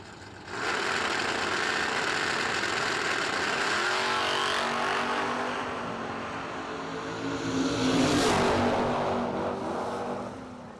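A Monte Carlo SS drag car idles and revs at a no-delay drag racing event, its loud rumbling engine holding steady before a rising surge of power near the end.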